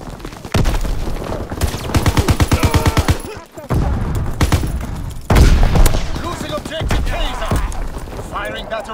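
Artillery battery firing in the World War II shooter Call of Duty: WWII, loud bursts of heavy gunfire and booms recurring across the stretch, with spoken battle callouts running over them.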